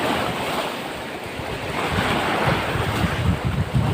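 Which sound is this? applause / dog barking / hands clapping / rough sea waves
rough sea waves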